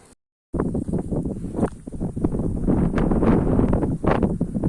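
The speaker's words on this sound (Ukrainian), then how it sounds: "Вітер дує сьогодні, як скажений." Strong wind over a wheat field roars and buffets the microphone almost continuously after a brief silent gap at the start.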